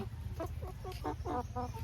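Domestic Patna-breed chickens kept in a backyard pen or cage cluck in a quick run of short, close calls that rise in strength toward the end over a low steady hum.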